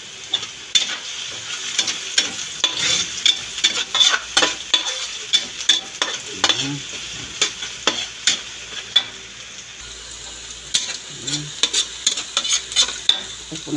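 Garlic and onion sauté in a pan for spicy adobong pusit (squid adobo), giving a steady close sizzle broken by frequent scraping stir strokes and light utensil knocks, with no talking.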